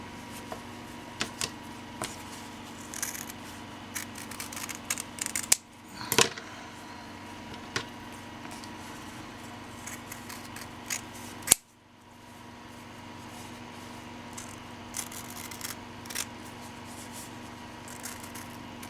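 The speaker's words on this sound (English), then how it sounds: "So then I'll go ahead and cut this big circle out." Fabric being cut into a large circle with scissors, steady snipping and blade rasps close by, a couple of sharper clicks along the way, no talking.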